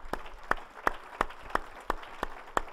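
A church congregation applauding at a dedication service: sharp, evenly spaced group claps in a steady rhythm, about three per second, in a fairly quiet room.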